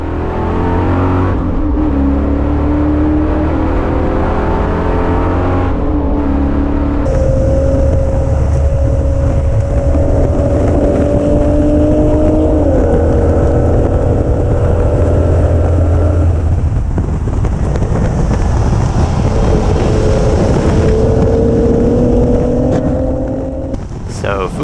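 Cadillac car engine roaring at speed on a racetrack, loud and sustained with rising and falling gear pulls and heavy wind buffeting throughout.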